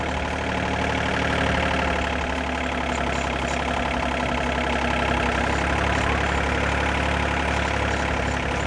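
Tractor engine running steadily while its plough is lowered, a loud continuous low rumble with a constant drone throughout.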